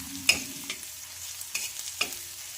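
Fried spinach being stirred in a pan with turmeric powder for an egg and spinach bhurji, giving a few distinct utensil scrapes and clacks over a soft, low sizzle, with no talking.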